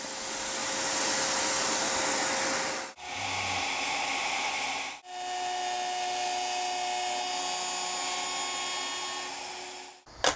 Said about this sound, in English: I can get my template mounted and we're ready to route.